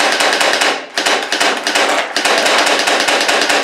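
Rapid, loud burst of sharp snapping shots from a strong jelly crystal blaster toy gun resembling a paintball gun, firing in quick succession with two brief pauses, close by.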